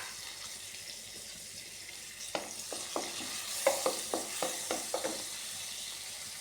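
Ginger and garlic fry in hot butter for a mushroom masala, giving a soft steady sizzle with a series of light scraping stirs that repeat at an even rhythm, close and quiet.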